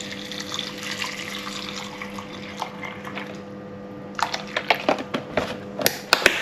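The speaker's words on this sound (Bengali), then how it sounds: "এবার আমি এর মধ্যে নিচ্ছি হচ্ছে আলমন্ড মিল্ক।" Unsweetened Alpro almond milk pours in a steady, close liquid stream, followed by a run of brief clinking and splashing sounds near the end, with no talking.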